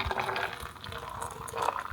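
Hot water is poured into a cup in a home kitchen early in the morning, giving a steady, close splashing and trickling that runs without a break for about two seconds.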